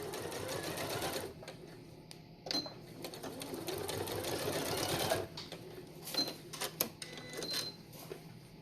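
A sewing machine stitches binding down on a quilt in close, rapid bursts of mechanical whirring, pausing briefly between runs of stitching.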